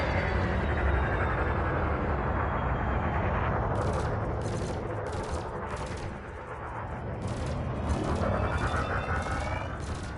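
Sustained roar of weapon fire in a space combat game, with a thermal burst laser and multi-cannon loosing rapid repeated bursts over a dense, loud rumble; a run of sharp pulses stands out in the middle and near the end.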